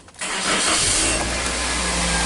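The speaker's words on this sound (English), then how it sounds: "let's see if that has enough power to start this vehicle." A 2006 Toyota Corolla engine cranking briefly on a portable jump starter and catching at once, then settling into a loud, steady idle close by.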